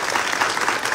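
Sustained applause from an audience at a public event in Jiquilpan, Michoacán, honoring a cancer survivor, a dense steady wash of many hands clapping throughout.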